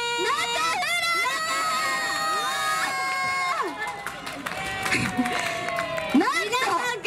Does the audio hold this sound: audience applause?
yes